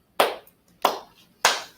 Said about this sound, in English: I will slow clap